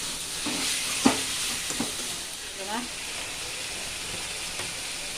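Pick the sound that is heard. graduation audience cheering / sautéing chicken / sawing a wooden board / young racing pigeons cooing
sautéing chicken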